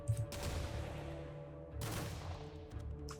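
Sniper team opening fire in the real-time strategy game Starship Troopers: Terran Command, a burst of gunfire at the start and another sharp volley near two seconds over a steady low battle rumble.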